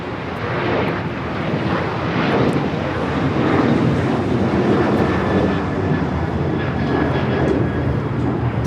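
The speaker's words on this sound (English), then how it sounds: "This is United Airlines Flight 1289 taking off to Denver on the 737-900ER" A United Airlines Boeing 737-900ER takes off at Los Angeles airport, its jet engines producing a steady, broad roar that holds at a loud level throughout.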